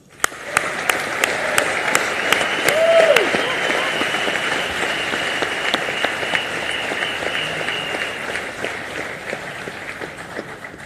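Sustained audience applause fills a large hall at Reliance Industries' 40th annual general meeting, a dense steady wash of many hands clapping for about eleven seconds, swelling slightly early then holding even, with no speech over it.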